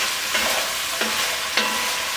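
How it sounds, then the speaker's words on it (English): Onions, carrots and celery for minestrone sautéing in a pot, a loud, dense sizzle broken by three scraping strokes of a spoon stirring the vegetables, close up, no speech. "At this point, with these vegetables, we're gonna saute them."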